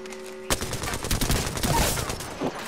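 Rapid gunfire from an arena shooter video game erupts suddenly and keeps going as a dense, loud barrage of overlapping shots, with scattered louder bursts and no talk.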